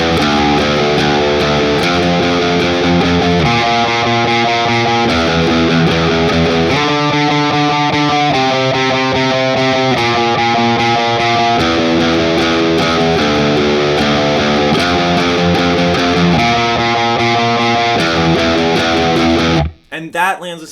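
A heavily distorted electric guitar plays a bridge riff, loud and thick, with chords shifting in steady blocks before cutting off abruptly near the end.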